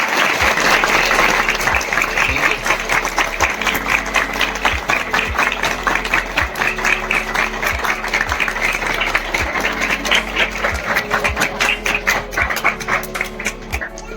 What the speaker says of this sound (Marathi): आपण खरोखर जोरात टाळ्या वाजवायचे